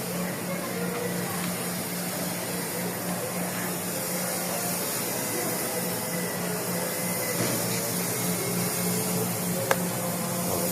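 A steady, loud hiss of a spray gun applying top coat to a Toyota Wego car runs continuously, with a faint mechanical hum underneath.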